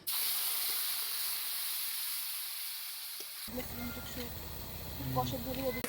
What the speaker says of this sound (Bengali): এখন ওই আলু ভাজার তেলে দিয়ে দিচ্ছি